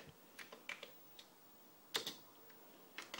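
Keys tapped on a Commodore C128 keyboard, a handful of light, sparse clicks in an irregular rhythm, faint and close in a quiet room.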